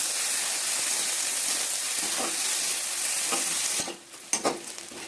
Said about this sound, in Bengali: পেঁয়াজটা আমি একটু লাল করে ভেজে নিলাম